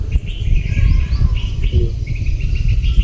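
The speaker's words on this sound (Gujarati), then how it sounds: "મોર ને બધા ચકલા અકલા બધું બોલે છે તમને અવાજ" Peacocks and sparrows chirp and call repeatedly outdoors in a village over a steady low rumble, with insect-like buzzing in the background.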